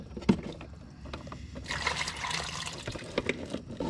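Rainwater trickles and splashes out of a brake actuator on an MF30E as it is removed, making a steady close pour with a few clanks of parts and no talking.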